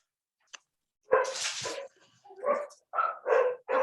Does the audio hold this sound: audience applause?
no